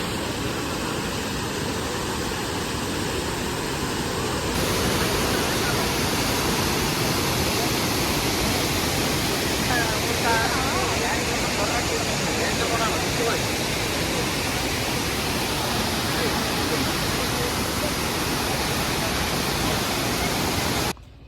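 A waterfall in Coorg, Karnataka, gives a constant, dense roar of falling water that fills the whole stretch evenly and stays loud from start to finish.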